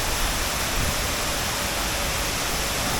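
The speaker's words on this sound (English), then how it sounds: "we were going to go and have a look at some waterfalls" A waterfall roars as a dense, steady broadband rush of falling water that stays constant and loud throughout, with no voices.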